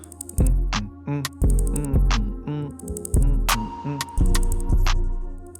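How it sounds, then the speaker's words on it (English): A punchy percussive hit bouncing through a busy electronic beat, repeating in a syncopated rhythm alongside deep bass and bright synth stabs. "Then I added this perk sound, create some bounce."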